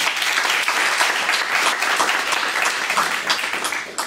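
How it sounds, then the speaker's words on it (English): Audience applause fills a room after a live event introduction, dense steady clapping from many people, loud and sustained throughout with no pause. "Give them a round of applause"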